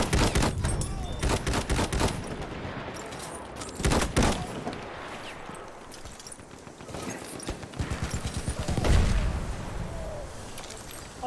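Battlefield 1 gunfire: bursts of rifle and machine-gun shots crack in clusters across a noisy battlefield, some close and loud, others scattered, with faint voices in the mix.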